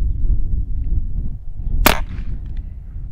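A single sharp spring rifle shot fired into bars of soap, a bright crack standing out over steady low background rumble, with a faint tail after.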